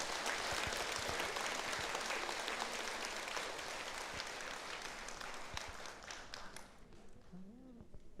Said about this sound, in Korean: 해담 스님 건강하시라고 차탈 박수 한번 부탁드리겠습니다.